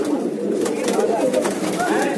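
Racing pigeons cooing and fluttering close by in a continuous murmur, with a steady low rustle of wings and movement throughout.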